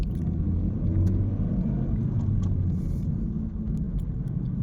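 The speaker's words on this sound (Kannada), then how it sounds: "ನೋಡಿ ಸ್ಟಾಕ್ ಎಕ್ಸಾಸ್ಟಲ್ಲೇ ಫುಲ್ ಸೌಂಡ್ ಬರ್ತೈತೆ" A Honda City on its stock exhaust gives a steady, deep engine rumble, close and continuous, with no voices over it.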